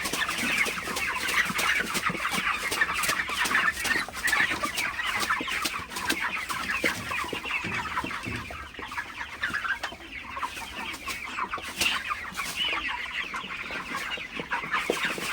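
Broiler chickens cluck and chatter densely inside a poultry shed at night, a constant crowded flock heard close, with no talk.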